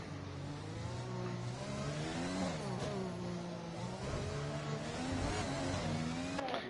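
Race car engines at Monaco in a racing video game, a continuous high whine rising and falling as the car revs through gear changes and tight corners, steady and fairly loud with no talk.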